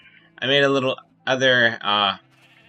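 Minecraft sheep bleat in a game pen, three loud wavering bleats close by, with a voice speaking faintly underneath.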